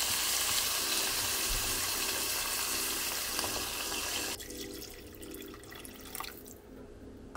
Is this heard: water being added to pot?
yes